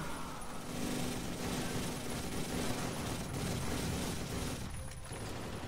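M134 minigun firing in a Turkish-played zombie video game, a continuous dense roar of rapid fire sustained throughout with no pauses and no talking.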